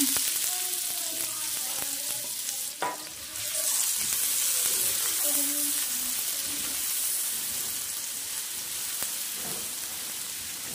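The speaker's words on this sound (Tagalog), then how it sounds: "tayo ngayon ay magigisa na. Unahin na po muna natin yung ating sibuyas at bawang." Onion and garlic sautéing in a pan make a continuous close sizzle with occasional stirring clatter, fairly loud throughout, with no talking.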